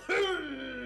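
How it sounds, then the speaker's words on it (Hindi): A single close cough bursts out and trails into a drawn-out, voiced rasp, loud against a quiet room. "अरे ये कौन खांस रहा है?"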